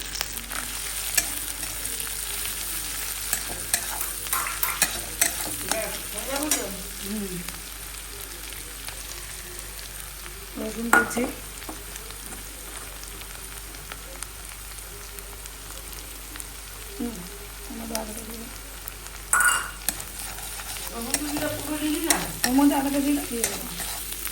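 Chicken and chopped green chilli fry with browned chopped garlic for a chicken stew. The pan gives a steady low sizzle, and bursts of stirring and scraping recur throughout.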